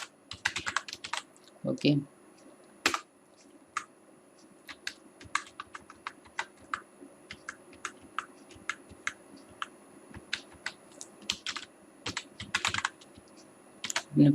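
Quick, uneven bursts of key clicks on a computer keyboard as HTML code is typed, close and clear, with a brief spoken word near the start.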